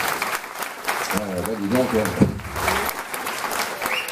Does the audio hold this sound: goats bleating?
no